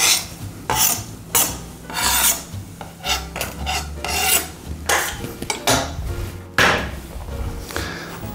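Chopped onion fries in butter in a hot pan, with repeated loud rasping scrapes from stirring over a steady sizzle, in irregular bursts throughout.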